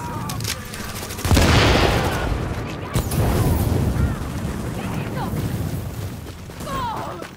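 Bursts of automatic gunfire and booming blasts fill an online firefight in the video game The Division, loud and dense at first, then scattered shots. Players talk over the action.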